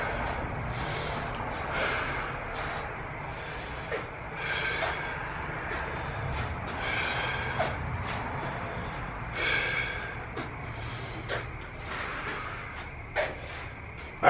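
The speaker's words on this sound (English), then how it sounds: "Take some deep breaths." Deep breaths are drawn in and pushed out in a slow series, each a breathy rush of air at close range, with sniffs and a few sharp clicks between them; no talk.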